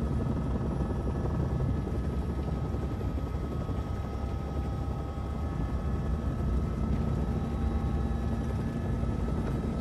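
Steady, dense rotor and engine roar from a helicopter in flight, loud and constant throughout with no voices.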